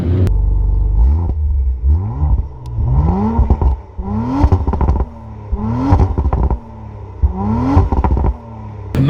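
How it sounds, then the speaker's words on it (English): An Audi RS5 engine revving through its exhaust, with repeated rising throttle blips that climb in pitch, each followed by a drop back to a deep idle rumble. "And the exhaust is not so loud, you know. It's good, but it's not really loud."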